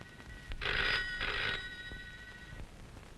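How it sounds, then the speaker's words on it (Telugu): A telephone rings in a Telugu action thriller movie scene, two loud bursts of electronic bell ringing separated by a short gap, then fading into quiet room tone. "ఆ ఫోన్ ఎవరో చూడమ్మా"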